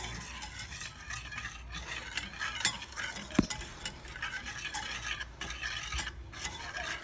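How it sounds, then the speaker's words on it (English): Flour and spices for a beer batter are stirred together in a bowl, with soft scraping and whisking strokes and occasional light clinks of a utensil against the bowl. "mix up the dry ingredient very well"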